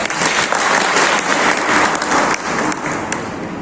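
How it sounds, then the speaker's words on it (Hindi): An assembly of the Khandal community applauds to welcome newly elected officials, a dense, sustained roar of many hands clapping at close range, steady and loud throughout with no talk over it. "इसके लिए मैं चाहूँगा सदन तालियों से इनका स्वागत है।"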